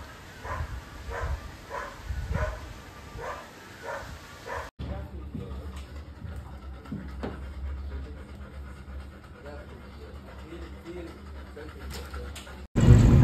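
A dog pants in quick, rhythmic huffs close by for several seconds. Afterward come quieter background noise and faint voices.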